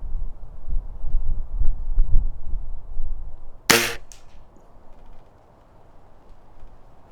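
A single sharp report from a Walther LGU airgun firing a .22 FX 15.89 grain pellet at a can 50 yards away outdoors, loud and brief, standing out over low wind rumble and fading quickly.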